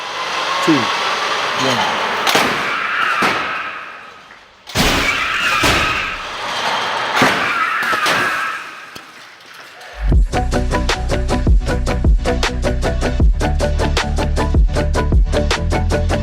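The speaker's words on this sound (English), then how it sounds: "when this pickup truck impacts the Model Y" A pickup truck slams into a Tesla Model Y during a crash test: a steady broadband roar, then one sharp, heavy impact, followed by continuing noise and a rhythmic, tonal clatter later on. No one speaks.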